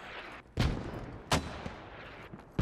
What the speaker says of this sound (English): That's enemy mortars.